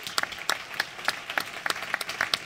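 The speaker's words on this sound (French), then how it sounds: "je pense qu'on l'applaudisse à Coco, notre Coco." Light applause from a small audience at a 2016 graduation ceremony, a few scattered hands clapping irregularly at moderate distance, fairly quiet and without voices.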